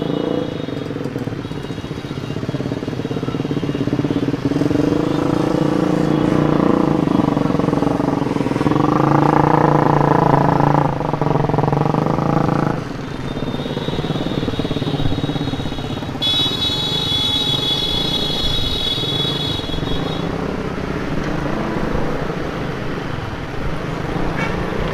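A custom motorcycle putters and revs through congested morning traffic, steady engine drone rising and falling as it pulls away and slows, with surrounding road noise and a high horn-like tone from nearby vehicles.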